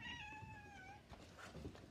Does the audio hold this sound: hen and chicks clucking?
no